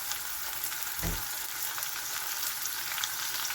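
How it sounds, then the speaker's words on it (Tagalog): Shrimp frying with garlic and onion in a pan, a steady close sizzle with a brief low clatter of stirring partway through, no voices. "Akin lang to luto-lutuin ang ating hipon habang niluluto natin ang ating bawang at saka"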